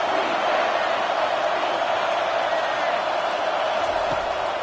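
Stadium crowd roaring in NCAA 25 college football during a big third down late in the game, a loud steady wall of cheering that holds for the whole stretch.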